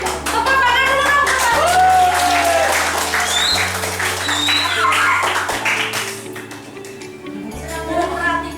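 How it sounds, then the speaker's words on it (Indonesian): A classroom of students claps for a presenting group, a busy, close burst of hand claps with a steady low hum underneath and scattered voices chattering over it. "Tepuk tangan dulu dong."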